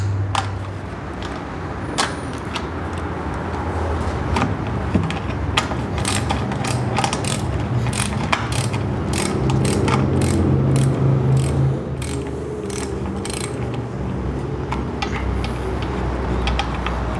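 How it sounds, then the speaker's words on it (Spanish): Ratchet with a 7 mm socket loosening a nut on a Volkswagen Beetle engine, giving a long run of sharp, close mechanical clicks in an uneven rhythm with no talk over them. "Esta tuerca se tiene que retirar con un dado de 7 milímetros y una matraca."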